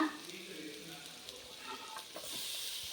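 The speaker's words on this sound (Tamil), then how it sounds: "இப்போ நம்ம பீட்ரூட்டை போட்டுக்கலாங்க" Grated beetroot dropped into a hot pan for beetroot rice, giving a soft steady sizzle and hiss of frying with light stirring scrapes, quiet and close, growing slightly brighter toward the end.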